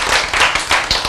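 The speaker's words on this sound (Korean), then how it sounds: "박수 치려고 그랬는데" A crowd claps during a church sermon, with dense, steady applause that pulses slightly over about a second, loud and close, no voices.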